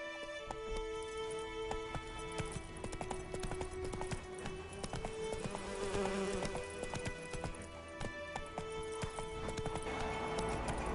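Horse hooves clip-clop at a riding pace in The Witcher 3, a dense rhythmic clatter under game music and ambience, with no talking.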